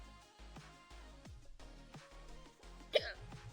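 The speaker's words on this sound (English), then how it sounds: "Sorry, hiccups." A single sharp hiccup from a woman livestreaming, a brief vocal catch near the end that rises clearly above a steady background of music or room sound.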